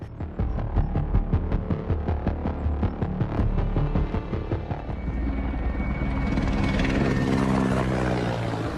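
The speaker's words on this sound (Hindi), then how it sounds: "यूक्रेन के हेलीकॉप्टर्स भी रूसी सैनिकों पर मंडरा रहे हैं।" Military helicopter rotors thump in a steady rapid beat, then blur into a loud continuous engine roar as the aircraft passes close overhead, in the Russia-Ukraine war.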